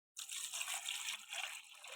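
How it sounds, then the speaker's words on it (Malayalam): Water pours steadily into a squid being cleaned for cooking, a short close trickling splash that starts abruptly and runs on alone. "ആദ്യം അതിനകത്തേക്ക് വെള്ളം ഒഴിക്കണം"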